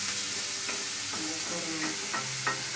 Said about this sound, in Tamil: அதுக்கப்புறம் பச்சை மிளகாய் போட்டு இப்போ நம்ம வதக்கணும்.